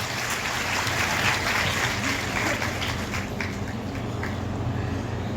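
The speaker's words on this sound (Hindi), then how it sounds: "तालियां तो बजाओ" Dense, steady applause from a crowd, sustained throughout without pause, with faint voices mixed into the clapping.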